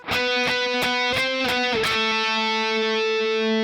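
Distorted electric guitar playing the strummed part of a song: about six sharp, evenly spaced strums, then a final chord left ringing and sustaining for the last second and a half, close and loud.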